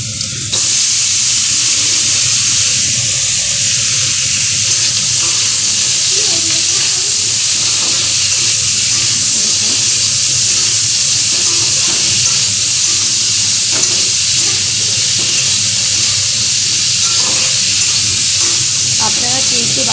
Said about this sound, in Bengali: দেখুন এই আলুগুলো দিয়ে দিলাম কড়াইতে